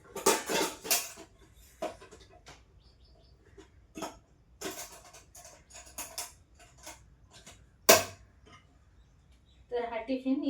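Dishes, pots and a tiffin box being scrubbed and washed in a home kitchen after cooking, with sharp clattering clinks and scraping bursts scattered among quieter gaps, loud and close, someone talking in between.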